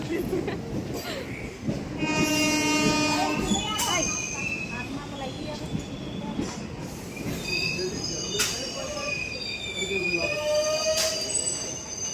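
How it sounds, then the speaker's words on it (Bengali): A train rumbles past on the rails with sustained, shrill wheel squealing and tonal screeches, with voices faintly audible nearby. "ওই দেখো ট্রেন"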